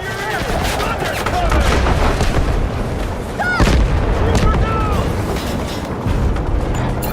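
Missile explosions and heavy blasts boom in the Delta Force video game, over a dense, continuous battle din with steady gunfire and a voice calling out through the chaos.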